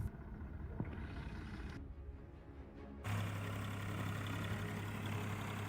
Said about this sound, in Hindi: ये देखिए कैसे ये बच्चा इस ट्रैक्टर को खेत के चारों ओर घुमा रहा है।